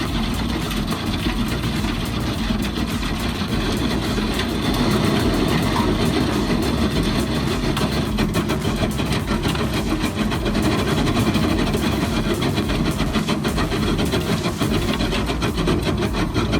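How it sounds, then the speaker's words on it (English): A 410-horsepower Cat C18 diesel engine powering a rock trencher cutting through limestone, a loud, steady, continuous roar with gritty grinding texture throughout and no pauses. "What stands out is the 410 horsepower Cat C18 engine."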